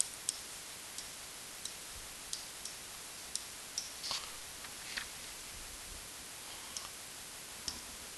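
Calculator buttons get pressed in a sparse series of light, sharp clicks, about a dozen scattered taps over faint steady background hiss.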